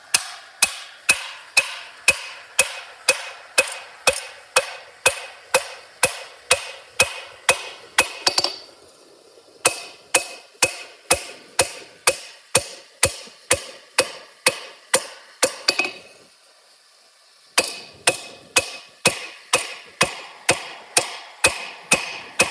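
Hot steel being hammered while forging flat jaw tongs, a long run of sharp, rhythmic ringing blows at a steady pace, loud and close, broken by two short pauses.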